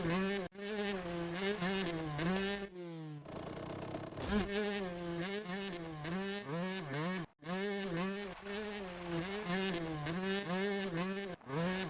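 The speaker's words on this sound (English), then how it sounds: "motorcycle noise is pretty bad." A buzzy, high-pitched motorcycle engine from the GameCube motocross game MX Superfly whines and wavers steadily as the throttle rises and falls, with a few brief cutouts and a short burst of hiss, loud and continuous throughout.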